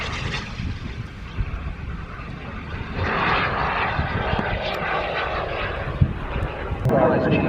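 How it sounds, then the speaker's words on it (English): Model jet aircraft flying at an air show, a steady engine roar that swells louder partway through, with wind buffeting the microphone and people talking in the background. "It's a model jet."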